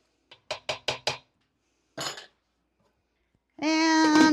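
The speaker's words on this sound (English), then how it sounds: "Give it a good stir." A spoon clinks against a pot of ham bone soup in five quick, evenly spaced knocks, followed by a short scraping swirl and then a louder, sustained tonal sound near the end.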